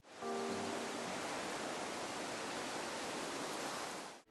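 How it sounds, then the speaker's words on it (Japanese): Highland ambient sound in Animal Crossing: New Horizons, a soft, even wash of breezy noise like distant wind or rushing water, with a few faint tonal notes at the start, steady throughout and with no talking. "環境音は高原にしておきます"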